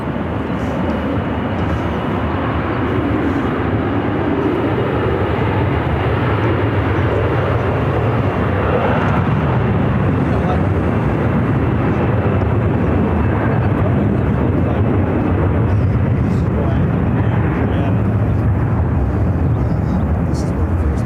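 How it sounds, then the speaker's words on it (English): A Delta Airbus A321-200 jet airliner at Phoenix PHX airport gives a broad, constant roar throughout, loud and steady, mixed with radio chatter and voices. "This is Delta Flight 2116 headed to Minneapolis on an Airbus"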